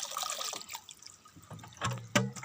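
Spring water at Cuevas Tinto, Agusan del Sur, trickling and splashing close by with bright dripping and pouring sounds that grow louder toward the end, without talk.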